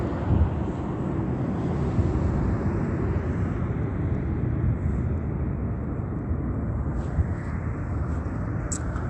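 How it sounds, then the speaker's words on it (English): Aircraft passing overhead during early evening near a stoplight, a steady broadband roar that holds loud and even throughout without rising or fading sharply, slightly gusty with wind, with no voices present. "while the state flies over by aircraft"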